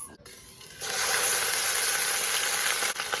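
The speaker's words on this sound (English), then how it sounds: "The oil is now hot, I can feel it, and I'm going to now add in my meat into this." Beef searing in hot oil, a dense sizzle that kicks in loudly just under a second in and holds steady, with a short dip near the end.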